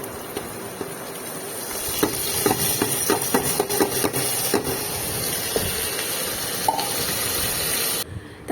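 Potatoes fry in oil with cumin, chilli and bay leaf in a home kitchen, a steady close hiss punctuated by several sharp metallic knocks and clanks from stirring in the pot.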